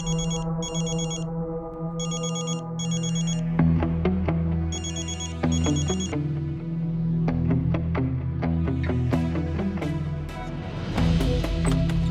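An unanswered phone call rings repeatedly in short electronic bursts, followed by a steady melodic ringtone with bright tonal notes continuing to the end, fairly close and with no speech.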